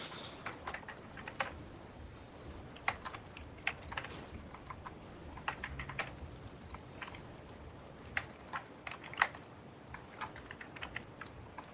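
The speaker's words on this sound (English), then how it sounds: "we can hear him clicking and hitting his keyboard rather hard" Keyboard typed and clicked hard and fast by a player in a competitive tournament match, with dense, sharp clacks and sharper key strikes throughout and no talking.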